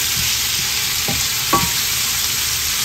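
Ingredients for a Bulacan-style tinumis beef caldereta are sautéed in a pan, a steady close sizzle broken by a couple of quick stirring strokes.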